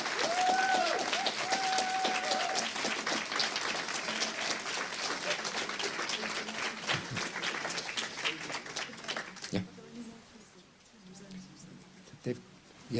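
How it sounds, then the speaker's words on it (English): Audience applause for workshop presenters at a plenary session: dense, steady clapping for about nine seconds, then thinning out and fading into quieter room sound. "give us a wave so we can thank you and give you a round of applause as well"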